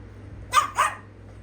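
One of two household dogs gives two quick, sharp barks indoors, close by, over a low steady hum, with quiet afterward.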